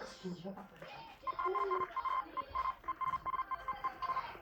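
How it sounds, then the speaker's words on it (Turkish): A security scanner beeps steadily at a woman's bag in a quick repeating electronic pattern, partly masked by people talking nearby. "Çantanız ötüyor hanımefendi."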